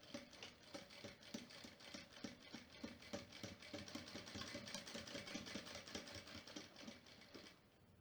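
A sewing machine runs steadily as it stitches a fabric seam on a fabric Bible or book holder, its rapid, even needle clatter close and continuous before slowing to a stop at the end.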